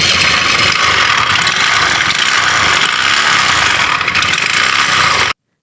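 A Bajaj Discover motorcycle engine with a worn connecting rod bearing runs steadily, giving a loud, constant mechanical clatter close by that cuts off abruptly near the end.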